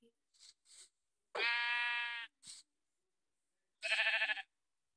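Sheep in Minecraft bleat in short, nasal, quavering calls, two clear bleats separated by a gap with a few faint clicks and blips around them, close and isolated against silence.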